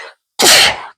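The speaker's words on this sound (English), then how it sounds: "I'm about to sneeze." A person sneezes once, a loud close burst that fades after a moment, with a short earlier breathy sound before a brief silence.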